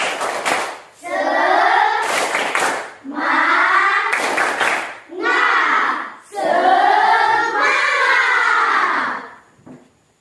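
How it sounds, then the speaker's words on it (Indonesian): A group performs a rhythmic spirit clap, sharp bursts of hand claps alternating with loud unison chanting and shouting, close and energetic, repeating in several rounds before ending. "Tepuk semangat."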